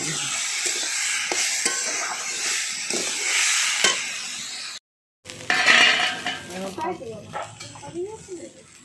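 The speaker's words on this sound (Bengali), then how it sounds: "ডাল দিয়ে আমি একটু ভালো করে নেড়ে নিলাম" Masoor dal is stirred in a pan with a metal spoon, giving repeated scraping clinks over a soft sizzle, close by; after a brief silent break the stirring resumes with a voice talking over it.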